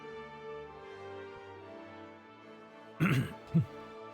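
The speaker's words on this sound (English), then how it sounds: "just trying to mute my mic so you don't have to hear me clearing my throat" A game commentator clears his congested throat twice in quick, close bursts over quiet esports broadcast background sound.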